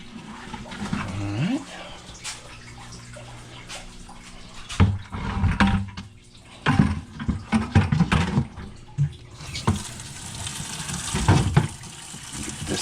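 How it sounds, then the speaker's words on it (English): Hot water from a tap pours into a bucket, a rushing, splashing fill that swells and fades in bursts, with a person talking intermittently over it nearby. "I will fill it halfway up with hot water."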